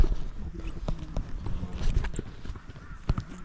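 A pony carrying a rider on a trail ride in Pahalgam, Kashmir clip-clops steadily over uneven ground, the hoofbeats close and mixed with rustling outdoor noise.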